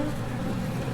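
A steady, continuous buzz of bees fills the air at close range, droning without pause with a low hum underneath.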